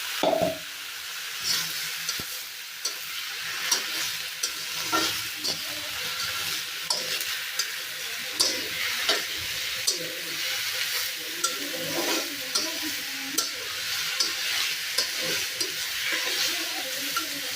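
Ridge gourd pieces sizzle and fry in a pan of spice paste while a spoon stirs and scrapes in repeated knocks over a steady hiss, close and moderately loud, with no talking.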